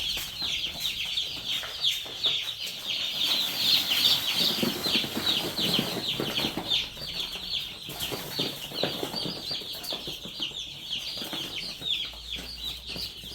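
Day-old broiler chicks in a heated brooder give a dense, continuous chorus of high peeping chirps, close and lively, with occasional soft rustling and wing flutters underneath.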